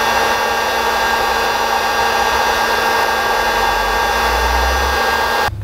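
A heat gun blows hot air to shrink solder sleeve connectors onto wires for a custom instrument cluster, a loud, steady whooshing hum that runs evenly and stops abruptly near the end.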